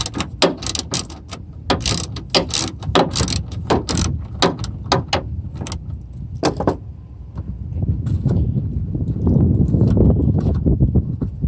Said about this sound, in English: So we just need to ratchet those off.